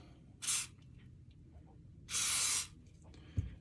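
Two hissing bursts from a spray can during a winch rebuild, the first short and the second longer, against a quiet background with a small knock at the end.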